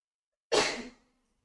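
A single short sneeze bursts out sharply and close, then trails off quickly into silence.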